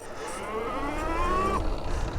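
A motorcycle-style electric e-bike pulls away in its 55-tooth sprocket gear, giving a close, rising motor whine that climbs in pitch for about a second and a half, then drops off abruptly.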